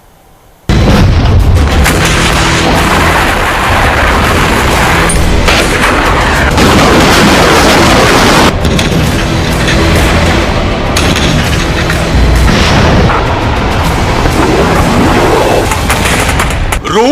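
Booming blasts and bursts of rapid gunfire from an Indian Army military exercise in Russia fill the scene continuously, loud and dense, with heavy detonations layered over crackling shots.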